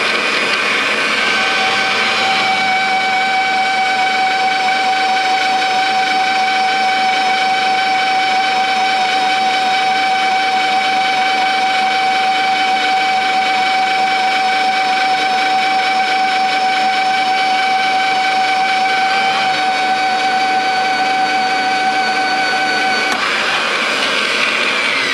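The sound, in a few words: drilling holes in metal front linkage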